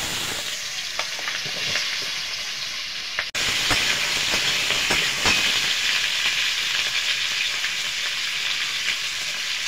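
Potatoes and green chillies frying in hot oil in a wok, a loud steady sizzle with intermittent clicks of stirring, briefly dipping at one point before the sizzle resumes.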